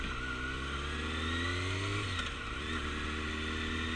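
A motorcycle circling a rider training course, its engine a steady moderate drone that rises and falls slightly in pitch as it accelerates and eases off, heard from on the bike with mild wind noise.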